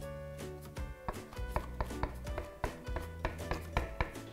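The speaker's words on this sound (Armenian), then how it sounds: "հապա փորձեմ դանակով մանր կտրատել։" A knife finely chopping food on a board, close and clear, in quick irregular bursts of sharp taps with brief pauses, no talking.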